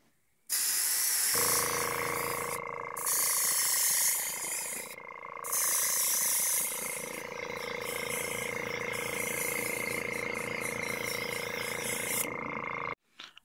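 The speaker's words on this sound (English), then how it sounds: "some black Testors Aztec opaque acrylic airbrush paint. And I'm going to start painting this up." An airbrush spraying black Testors Aztec opaque acrylic paint, a close, steady hiss with a few brief pauses and uneven bursts, alone without talk.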